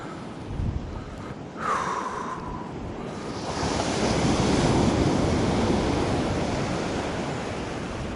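Waves and surf roll onto an empty beach on the coastal walk between Waratah Bay and Walkerville South, a close, continuous roar that swells and grows fuller partway through, with no voices.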